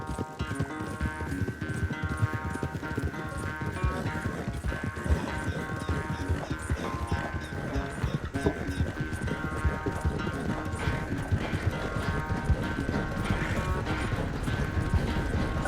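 Horse hoofbeats from a race in Red Dead Redemption 2, a dense, continuous galloping clip-clop running loud and steady under game music and ambience, with no talk.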